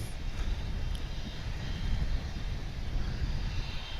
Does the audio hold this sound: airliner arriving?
yes